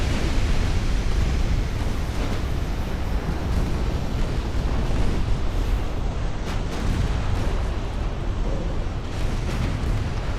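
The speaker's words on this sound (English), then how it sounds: "Torpedo hit." A loud, sustained rumbling roar from a torpedo hit in a 1900s naval warfare game with dreadnoughts, a broad, noisy blast that holds steady and dominates throughout, with no talk over it.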